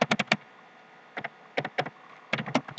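Quick bursts of close, clattering computer keyboard typing into a search engine, a rapid run of keystrokes, a pause, then several more short clusters of clicks, loud and alone in a quiet room.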